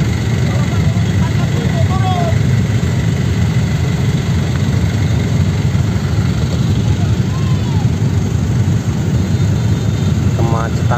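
Idling motorcycles crawl through a jam on a one-way road at the Cengkareng emergency market in Kapuk, West Jakarta, producing a loud, continuous engine drone with faint voices and scattered street sounds layered on top.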